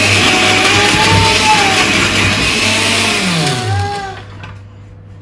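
A loud, steady mechanical whir of a blender motor blending cauliflower, with shifting pitch, running continuously before cutting off near the end.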